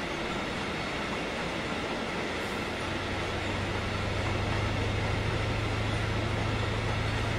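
A BR294 diesel locomotive on the Ruhr-Sieg line in Train Simulator 2015 runs with a continuous rumbling rail roar and a steady engine drone that grows slightly louder toward the end, with no talking.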